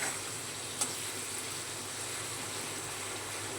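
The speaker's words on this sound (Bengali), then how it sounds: "তাহলে আমি পনিরটা ভেজে নিয়ে ঘুরে আসছি" Paneer fries in a kadai with a pinch of salt, giving a steady, dense sizzle and crackle throughout and one brief light clink early on.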